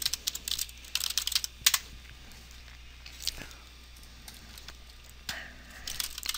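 Fingers tap a computer keyboard to enter a password: quick bursts of clicky keystrokes, a pause, then a few more isolated taps, close and fairly quiet.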